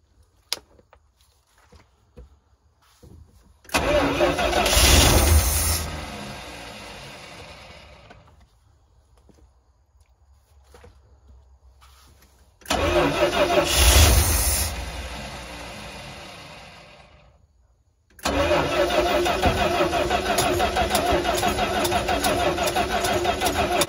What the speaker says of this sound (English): Gonna heat that starter up.